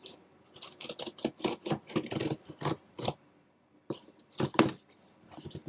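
Scissors snip and slice through the packaging of a renewed Xbox 360 Slim box, a close run of short crisp cuts and crinkles in uneven bursts with brief pauses between.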